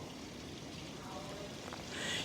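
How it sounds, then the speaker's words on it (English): Heavy rain pours down steadily during a flash flood warning, a dense continuous hiss that stays loud and close throughout, swelling slightly near the end. "It's super heavy, the rain."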